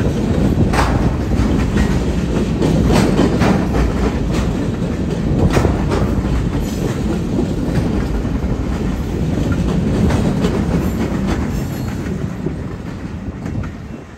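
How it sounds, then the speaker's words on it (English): A freight train of centerbeam cars loaded with forest products rolls steadily past on branch-line rails beside an old warehouse, with continuous loud wheel rumble and rhythmic clickety-clack that thins slightly toward the end. "The parade of center beams kicking up dust alongside the old warehouse prove that it is forest products keeping the rails shiny"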